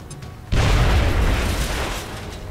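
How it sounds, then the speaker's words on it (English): A grenade goes off in XCOM: Enemy Unknown, a single loud, deep boom that hits suddenly after a brief quiet moment, then rumbles on and slowly fades away. "Throw a grenade right there."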